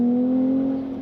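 Ferrari 296 GTS V6 engine holding a steady, smooth drone with a strong tonal hum, heard from inside the car and fading slightly at the end.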